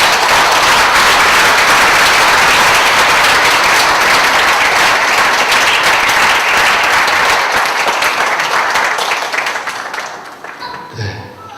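A church congregation at a Friday night Holy Spirit gathering bursts into warm applause as a pastor comes forward. The clapping is dense and sustained for about ten seconds, then thins and fades away at the end.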